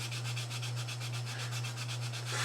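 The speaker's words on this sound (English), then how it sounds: "Sanding frame." A Flexifile sanding frame rubs back and forth over wood in quick, even strokes, a soft rasping rhythm over a steady low hum.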